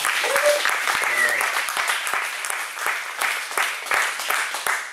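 Crowd applause at a cowboy church gathering: sustained clapping from many hands with a few whoops and whistles mixed in, loud and close, while voices call out over it.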